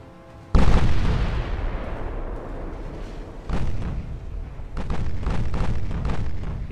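Warship guns fire shells in the naval game Ultimate Admirals: Dreadnoughts: a loud booming salvo hits first, followed by further rumbling blasts and a long roar that keeps the scene heavy and thunderous.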